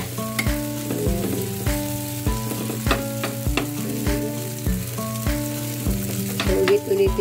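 Cassava pieces fry in a pan, giving a steady crackling sizzle with repeated sharp clacks of a utensil stirring and tapping the pan at a regular pace, close and fairly loud.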